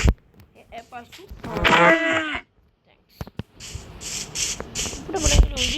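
A Minecraft cow lets out a low, drawn-out moo in the middle of the clip, with quieter game sounds and shuffling before and after it.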